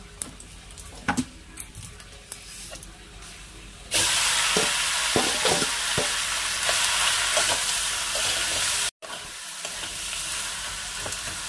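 Jujubes drop into a hot pan already holding five-spice and a dried chilli, setting off a sudden loud, steady sizzle that follows a quieter stretch of stirring, with one brief break near the end.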